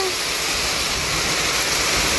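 Heavy rain pours down in a dense, unbroken roar with a constant hiss and no pauses, loud and close throughout with no talk over it.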